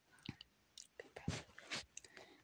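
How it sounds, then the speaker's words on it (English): Dry, uncooked spaghetti being chewed close to the mic, with a series of short crunchy bites and grinding bursts spread irregularly over a couple of seconds in an otherwise quiet room. "I'm chewing on dry spaghetti right now."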